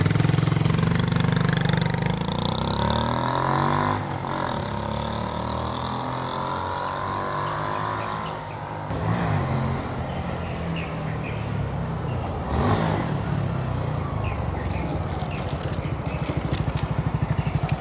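A motorcycle fitted with a Yoshimura full exhaust system revs hard near the microphone, its loud engine rising and falling in pitch through several throttle blips with a throaty rasp.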